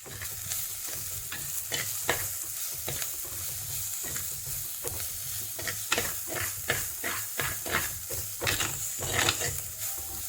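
Salted onions fry in a pan for a bitter gourd curry, sizzling steadily while a spoon stirs them in frequent, rhythmic scraping strokes, close and clear with no voices.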